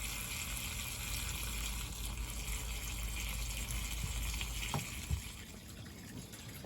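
Continuous rushing water from a hose pours steadily into an inflatable hot tub, a constant gushing flow with a few faint knocks, no speech.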